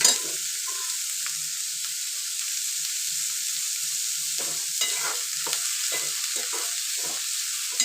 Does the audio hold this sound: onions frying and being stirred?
yes